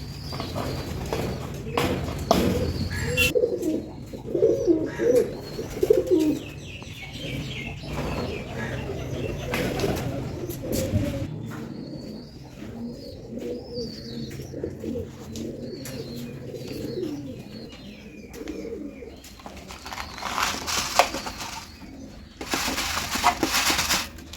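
Indian fantail pigeons coo in a new enclosure, soft repeated low coos from a few birds close by, with occasional chirps and rustling, and a brief knock or clatter now and then.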